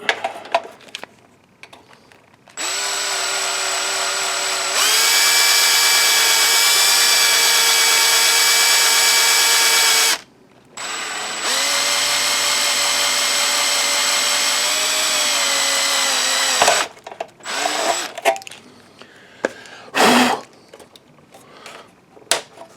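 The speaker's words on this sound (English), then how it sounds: "Wow, that drill bit is shot." A power drill with a worn bit whines loudly in two long, sustained runs with a brief pause between, then short bursts and clattering afterward.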